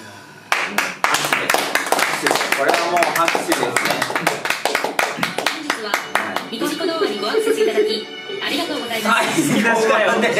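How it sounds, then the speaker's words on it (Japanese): Sharp hand claps ring out in a quick, uneven series, loud and close, mixed in with a voice and a dense wash of other sound. "これはもう拍手ですね。"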